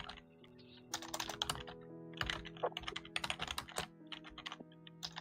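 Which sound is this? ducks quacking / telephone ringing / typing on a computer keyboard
typing on a computer keyboard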